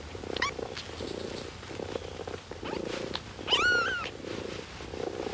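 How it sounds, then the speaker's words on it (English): Mother cat purring steadily beside a litter of five newborn kittens, less than a day old, in a cardboard box, with several thin high kitten mews rising over the purr, one longer cry near the end. "has produced a litter of 5 kittens in a cardboard box"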